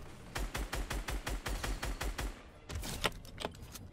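Rapid gunfire from the Fortnite video game: a fast, evenly spaced string of about fifteen loud, close shots, then a short pause and a few more scattered blasts. The rhythm suggests automatic fire more than single sniper rifle shots.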